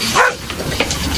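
A single short dog bark rings out close by at a house gate when a delivery man arrives, loud and brief against a quiet background.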